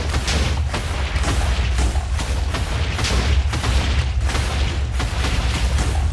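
Continuous rapid, loud booming Minecraft explosions, one after another with no pause, forming a dense rumbling barrage throughout.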